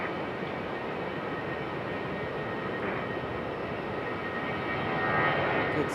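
An Airbus A319 jet departs Raleigh-Durham International on a hazy day, a steady, fairly distant engine roar that swells slightly near the end.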